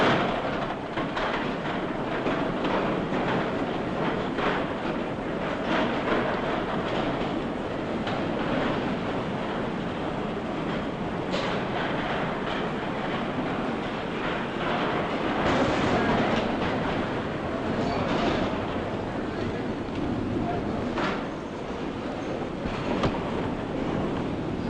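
A 1940s London railway terminus with steam trains: a steady, dense rumble of rolling stock on rails, continuous and fairly loud throughout, with faint clicks and clatter and no speech.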